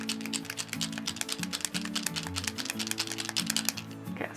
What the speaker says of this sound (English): give the marker a good shake